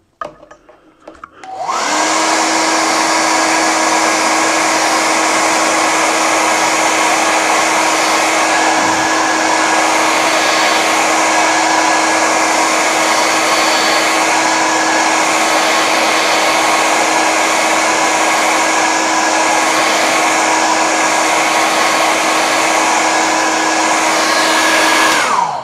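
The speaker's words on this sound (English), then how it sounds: "I have to keep using the hairdryer because I want to speed up a bit." A hair dryer dries watercolour paint, switching on and then blowing with a steady, loud, unbroken roar and whine close by for over twenty seconds.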